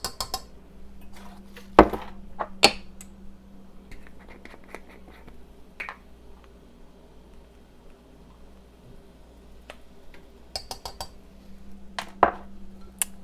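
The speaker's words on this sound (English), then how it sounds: "Give that a good stir." A flour and butter mixture stirred in a pan with a spoon, soft sizzling hiss under intermittent clinks and scrapes of utensil against metal, close by and fairly quiet, with no talking.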